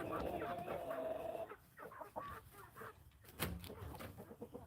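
Farmyard chickens, some of them with bald patches, cluck quietly in a faint, muffled stretch over low outdoor background noise, with scattered soft calls.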